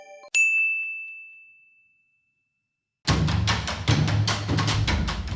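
A single bright bell ding rings out and slowly fades to silence, followed by a burst of dense, rhythmic music.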